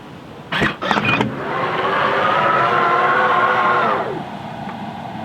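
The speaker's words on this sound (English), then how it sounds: "Tesla Offer Frunk open sound." A Tesla factory-offered power frunk opens with a few sharp clicks and latch knocks, then a smooth motor whir that rises and holds for about three seconds before stopping, close and clear.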